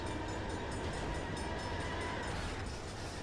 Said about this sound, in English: that dude just like is gonna get hit by a train